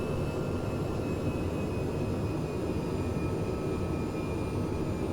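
An F-22 Raptor jet taxiing in Microsoft Flight Simulator, its engines holding a constant, loud whine and roar with a steady high tone that runs throughout and nobody speaking.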